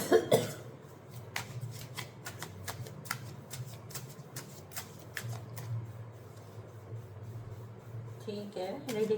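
Tarot cards are shuffled indoors in quick, repeated riffling bursts, crisp and close, running through most of the stretch while someone speaks softly in Hindi around them.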